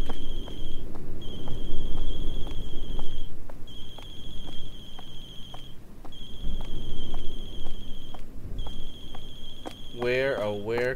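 A phone in the video game Closing Shift rings in repeated trilling bursts with short gaps between them. Footsteps and background noise sit underneath, and a voice cuts in briefly at the end.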